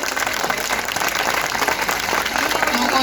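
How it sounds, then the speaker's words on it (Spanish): An audience at a book and food fair claps for a guest, a brief dense burst of applause from a crowd that stays steady to the end. "le pido que lo aplaudan también"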